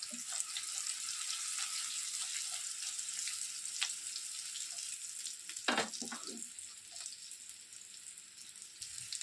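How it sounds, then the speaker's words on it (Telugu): Stuffed bitter gourd fries gently in a pan on low heat, giving a soft, steady sizzle throughout with a few faint clinks and scrapes from the pan. "ఇప్పుడు చిన్నగా ఒక ఫైవ్ మినిట్స్ దీన్ని అలాగే ఫ్రై చేసేద్దాం"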